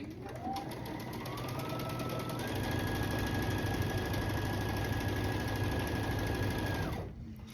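Sewing machine stitching a quilt block seam, a steady close motor hum with rapid needle knocking that rises slightly in speed, holds for several seconds, then winds down and stops.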